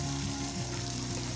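Spiced meat frying in a pan with ground spice paste, a steady close sizzle and crackle running unbroken and fairly quiet throughout.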